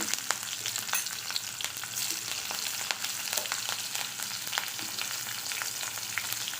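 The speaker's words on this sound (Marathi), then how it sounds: "आता हिरव्या मिरच्या फोडणीला घालत आहे" Green chillies fry in hot tempering oil with cumin, a steady crackling sizzle with frequent small pops, close and moderately loud throughout.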